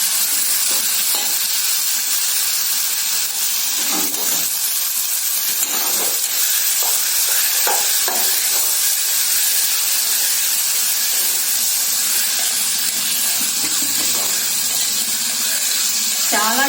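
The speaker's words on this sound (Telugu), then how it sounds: "ఈ టమాటాలు వీటిలోనే మగ్గనివ్వాలి కొద్దిసేపు" Tomatoes simmering for rasam in a pan give a steady, loud broadband hiss and sizzle, unbroken throughout, with faint utensil taps and a few brief voices underneath.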